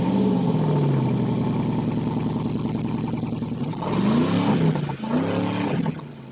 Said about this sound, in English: Coming out of this 400 horsepower V8 are quad tips that come right out the side.